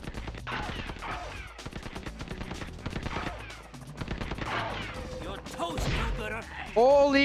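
Electro firing electric shots at the screen in the PS1 game Spider-Man 2, a dense run of sharp blasts and crackling impacts over game music, ending in a brief loud electronic tone.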